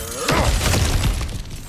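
Objects shatter and crunch as they are smashed through in God of War Ragnarok, a burst of breaking debris with scattered crackling fragments over a little under two seconds.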